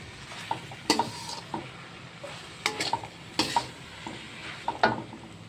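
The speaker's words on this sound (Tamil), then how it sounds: "இவங்க கூட இந்த கடுகு கீரையை போட்டுட்டு ஒரு கிளறி விட்டுருவோம்" Mustard greens being stirred in a frying pan: a soft, low sizzle broken by several sharp scrapes and clinks of a utensil against the pan, coming in irregular bursts.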